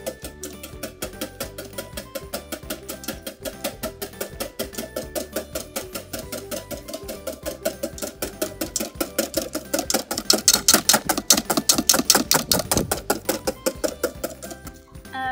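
Cream is whipped by hand-pumping air, a rapid rhythmic series of close repeated strokes, mechanical clicks and whooshes that speed up and grow louder toward the end, with no talk.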